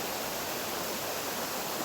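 A waterfall and creek pour over ignimbrite rock, giving a dense, steady broadband rush of water that is close and loud, with no voices.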